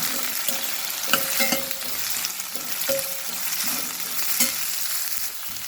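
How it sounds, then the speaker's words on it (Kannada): Onions fry in a pan for a methi leaf palya, a continuous close sizzle broken by repeated clinks and scrapes of a spoon stirring against the pan, with no talking. "ಈಗ ಈರುಳ್ಳಿಯನ್ನು ಹಾಕಿರ್ತೇನೆ ಈರುಳ್ಳಿ ಫ್ರೈ ಆಗಲಿ"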